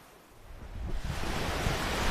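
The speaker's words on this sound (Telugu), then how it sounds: "బీచ్ సౌండ్ చూసారు ఎంత మంచిగా ఉందో." Ocean waves break on Vizag beach as a broad, rising surf roar that swells louder over a couple of seconds, with no voices.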